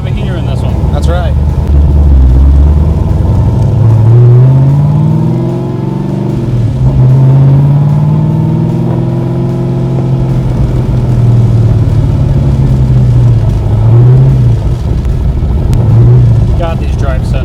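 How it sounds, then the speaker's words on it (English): A 1965 Backdraft Cobra roadster drives on the road with a steady, loud engine note that rises and falls through gear changes, heard from inside the car with people talking over it throughout. "It's always a good day when you get to drive a Cobra."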